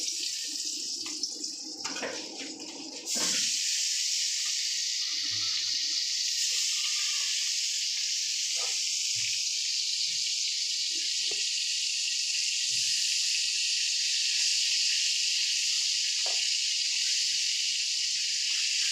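Koi fish frying in hot oil in a wok, a steady close sizzling hiss that holds for nearly the whole stretch after a brief quieter start, with faint clinks beneath.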